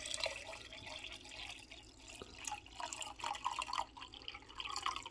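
Water pours into the reservoir of a pour-over coffee maker filled up to its max line, a steady splashing trickle heard close up with brief irregular drips and no talking.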